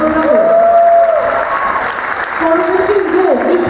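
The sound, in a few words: audience applause for a dance couple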